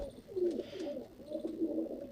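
Soft rolling coos from a black-beaked, white-eyed Jonsri hen pigeon, two short phrases heard up close with no voices present.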